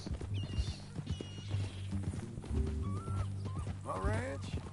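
Horse hooves clip-clop in Red Dead Redemption II, a steady plodding rhythm heard close under game music and voices talking over it.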